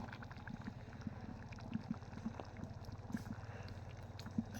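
Liquid already at a boil in an uncovered pot bubbles softly, with a low rolling burble and scattered small pops, faint and close.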